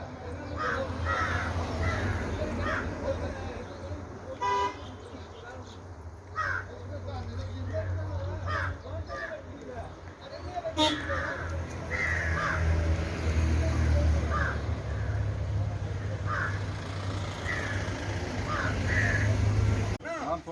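Crows cawing around an uncleared roadside garbage and chicken-waste dump, repeated harsh calls from several birds at middle distance under steady background noise, with someone talking throughout.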